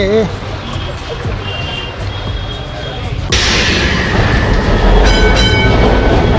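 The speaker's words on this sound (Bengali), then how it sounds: "এই দেখুন কলকাতার ঐতিহাসিক সেই ট্রামে করেছি আজকে আমরা আর ট্রামে করে যাচ্ছি আমরা" Riding aboard a historic Kolkata tram: a continuous rolling rumble and clatter of the car on its rails, growing louder and brighter partway through, with voices talking over the ride.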